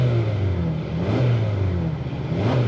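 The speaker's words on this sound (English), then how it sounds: "we can hear this inline 4-cylinder engine" A 2024 Hyundai Tucson's 2.5L inline four-cylinder engine runs close by, a steady low hum with a slight rise and fall in pitch as though it is lightly revved, with no voices.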